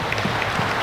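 A church congregation claps in thanks during a Sunday festival worship service, a short steady patter of applause filling the room.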